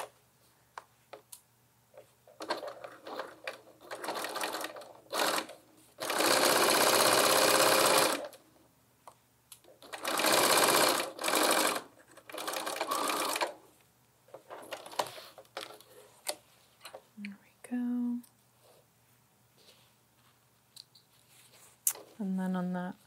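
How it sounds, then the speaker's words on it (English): A sewing machine stitches a lined tote bag in several separate runs, each a few seconds long and loud and close, with pauses between them and someone talking in the gaps. "on the other side, I'm just going to sew all the way up"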